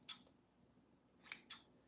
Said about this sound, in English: I like to just snip it kind of like halfway